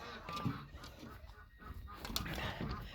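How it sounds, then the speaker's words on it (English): Chickens just let out of their coop in the morning, several birds clucking and honking in short, overlapping calls at close range and moderate volume. "Good morning, big chickens."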